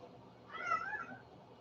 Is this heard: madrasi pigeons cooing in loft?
no